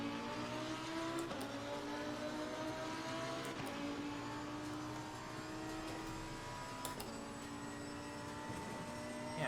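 A race car engine lapping Laguna Seca in Assetto Corsa Competizione, a steady loud drone with rising and falling engine pitch through gear changes, running alone for the whole stretch.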